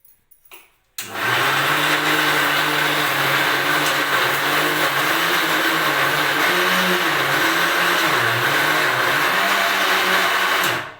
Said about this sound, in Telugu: ఇంకొంచెం మిక్సీకి పడతాను